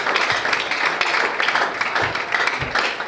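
An audience claps continuously to welcome someone speaker as she walks to the stage at a boys' event, dense close applause with a few louder hand hits.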